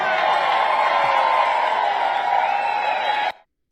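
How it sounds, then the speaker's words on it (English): A large rodeo crowd in Fort Worth, Texas roars, cheers and claps in a dense, sustained wall of sound that cuts off abruptly. "Listen to that crowd."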